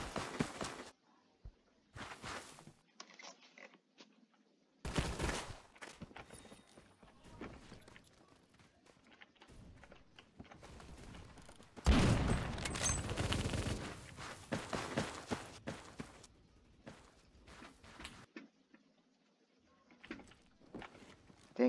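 Video game gunfire rings out in bursts of rapid, loud shots separated by quiet gaps, with one long sustained volley in the middle.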